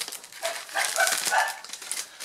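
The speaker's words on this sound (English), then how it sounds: "And my dogs are barking." Dogs bark faintly in the distance in a few short, soft yips, heard indoors without other sounds.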